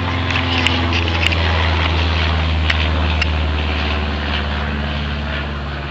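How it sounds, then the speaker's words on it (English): A low-flying propeller airplane passes overhead outdoors, a steady loud engine drone with a strong low hum filling the whole stretch, with faint rustles and clicks on top. "Low flying plane."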